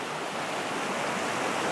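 A river runs strongly on a cold, still morning, a soft, even rushing wash heard at a distance with no talk over it.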